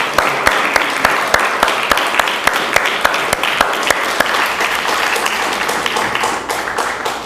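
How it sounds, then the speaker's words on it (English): Audience applause at a Philadelphia Earthship sustainable building site, loud, dense clapping from a sizable crowd with sharp individual claps standing out, sustained throughout and tapering slightly at the end. "Let's give them a big round of applause."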